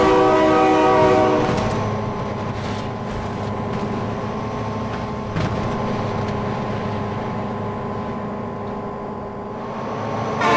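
Train horn blasting loud and sustained in the BeamNG driving game as a train bears down on a double flatbed trailer truck, holding steady over rumbling rail noise for the full stretch.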